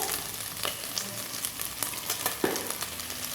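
Garlic goes into a pan of frying bacon and calabresa sausage, giving a continuous sizzle with scattered sharp pops and light clicks from stirring close by.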